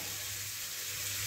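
Asafoetida frying in oil in a pan for a Tamil sesame ivy gourd gravy, with curry leaves. A steady, close sizzle holds without a break and no one talks.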